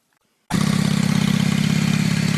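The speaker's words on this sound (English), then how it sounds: "Now I'm going to turn on the bike" A 1988 Honda Shadow 600 motorcycle engine starts abruptly and settles into a loud, steady idle with an even, rapid pulsing rhythm close by, with no one talking.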